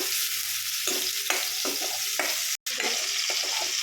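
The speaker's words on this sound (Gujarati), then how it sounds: "જે આદુ, મરચાં, લસણ, કાંદાની પેસ્ટ બનાવેલી હતી તે આપણે એમાં નાખી દીધી છે. ઓકે. અને આપણે એને સાંતળવા મૂકી દઈએ." Ginger, chili, garlic and onion paste sautés in a hot pan, a steady close sizzle broken by several scraping stirs and one brief silent gap.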